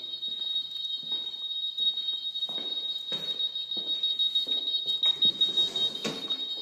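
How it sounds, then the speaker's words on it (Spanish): A high electronic alarm beeps steadily and piercingly throughout, with muffled footsteps and movement underneath. "Y la alarma que está haciendo todo ese ruido."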